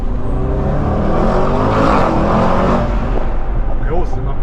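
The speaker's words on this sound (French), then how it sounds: "T'as vu la voiture comme elle se cabre?" A car accelerating and revving heard from inside with a window open, a loud steady engine roar and wind rush that swells and fades, with people talking over it.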